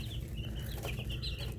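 Easter Egger chickens cluck and chirp softly in a small flock, several short high calls scattered over a steady low hum, fairly close and not loud.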